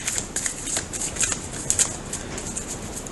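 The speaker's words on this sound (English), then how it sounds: "I'm going to shuffle a little bit in between them." Tarot cards are shuffled by hand in quick, close riffling bursts, crisp papery flutters repeating irregularly with no talking.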